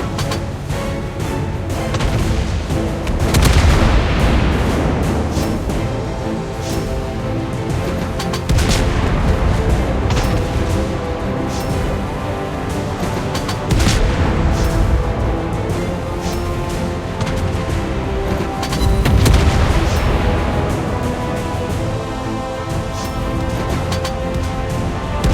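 Naval guns roar in a World of Warships Blitz battle, a continuous barrage of heavy booms and blasts repeatedly swelling to loud peaks over a dense low rumble, with no talking.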